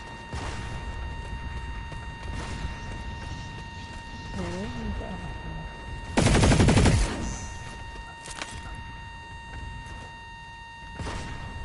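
In the video game Planetside 2, a rifle fires one loud, rapid automatic burst midway through, set against steady game ambience and a few scattered fainter effects.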